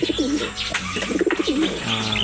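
Pigeons coo in soft, rolling phrases close by, repeating several times over a low background hum, with a faint chirp near the end.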